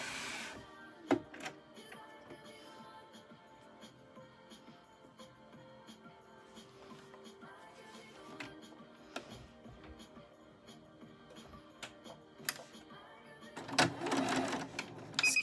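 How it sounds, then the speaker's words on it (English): Sewing machine stitching along the bottom edge of a hand sanitiser cover, a quiet run of rapid mechanical ticking with occasional clicks and a louder burst near the end. "we're going to sew along the bottom edge"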